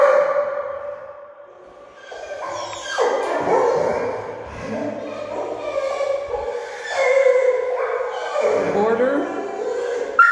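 Several puppies yip, whimper and bark in irregular bursts close by, their high little voices overlapping and tumbling over one another with a brief quieter pause.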